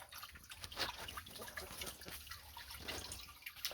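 Hose water runs and splashes quietly into a bucket, a soft continuous trickle with faint drips, fairly distant and low in level.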